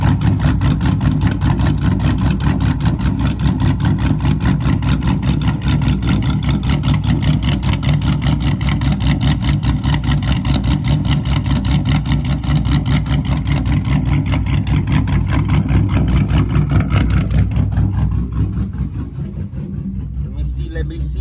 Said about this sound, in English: This engine sounds so good.